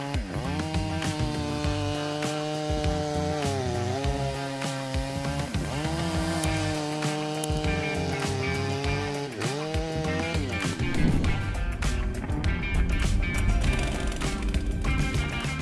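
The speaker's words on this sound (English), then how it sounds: "There is no need to praise this style MS-881 saw more because the working ability it brings is so great." Stihl MS-881 chainsaw cutting big wood at a sawmill, a loud continuous engine roar that dips and rises in pitch as it bogs into the cut and revs back up, close and unbroken.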